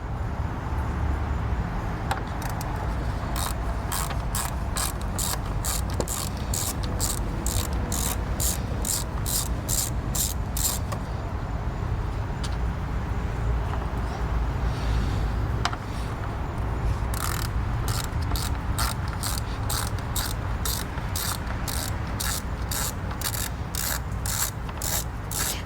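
A hand ratchet clicks in quick repeated runs while loosening two 10 mm bolts on top of a Honda Accord radiator, the sharp metallic ticks coming in separate bursts with short pauses between them.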